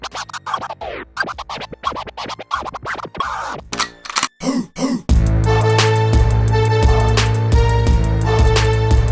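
DJ boomerang scratch played fluently on a turntable with the crossfader, a steady run of quick rhythmic cuts over a loud continuous beat, following a stretch of choppy isolated scratch strokes with no talking.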